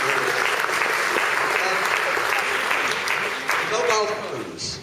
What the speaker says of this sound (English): I think a round of applause for Mike and all the people that are involved in this